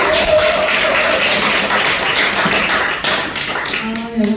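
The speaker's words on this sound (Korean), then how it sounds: "큰 박수 부탁드립니다." Audience applause at a Korean corporate event as an executive is welcomed to the stage, a dense, steady wash of clapping filling the room throughout, with faint tonal sounds near the end.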